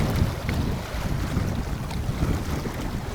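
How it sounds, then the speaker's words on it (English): Freshwater reservoir waves lap and wash against huge rocks on the shore amid a low, steady wind rumble, continuous and fairly close, with no speech. "Sound of the freshwater waves of the reservoir"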